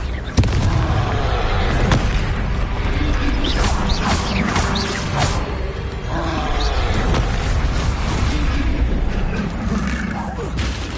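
Repeated Confringo fire-spell blasts in the Hogwarts Legacy video game, booming impacts and crashing debris in a loud, dense battle mix with game voices shouting over the combat.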